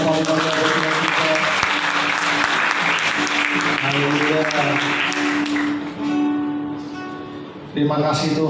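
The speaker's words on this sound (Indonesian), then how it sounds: "Berikan tepuk tangan yang paling banyak buat Tuhan kita." A church congregation applauds throughout a live Sunday worship service, dense sustained clapping mixed with music and voices, fading briefly near the end before picking up again; a voice calls out in praise over it.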